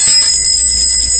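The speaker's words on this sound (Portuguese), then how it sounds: "Eu gosto de sino. E eu tenho 2 lá em casa" A small bell rings and vibrates with a sustained, shimmering high tone that hangs steadily without decay, loud and close, with no voices over it.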